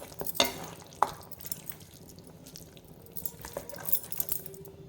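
Chicken being stirred through masala in a pan for Kerala-style chicken curry, with soft scraping and clinking of a spoon, a couple of sharper knocks early on, and a faint sizzle underneath.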